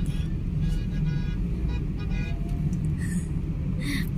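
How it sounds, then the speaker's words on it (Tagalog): Steady traffic rumble in Oman during a celebration fills the air, with a few short car horn toots sounding at a distance near the end. "Busina sila ng busina."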